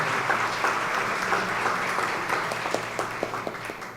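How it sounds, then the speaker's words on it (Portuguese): An audience at a legislative school lecture on deaf-blindness applauds the school director, a sustained, fairly loud crowd clapping that thins toward the end into sharper scattered individual claps. "Por favor, uma salva de palmas também para a diretora Adriana."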